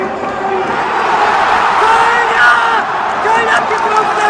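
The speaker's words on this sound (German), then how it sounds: "Jubel im Stadion!" Stadium crowd cheering at a Bundesliga football match, Dortmund against Mainz 05 on the final matchday, a dense roar of many voices with whoops and shouts rising and falling, heard from within the stands.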